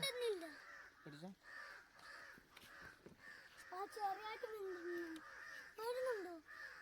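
Crows caw repeatedly at a moderate distance while people talk nearby, their harsh calls overlapping the conversation.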